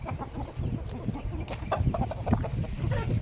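An eight-month-old fighting rooster of Taiwanese bloodline gives short, scattered clucks close by over a low, busy background, with no voices.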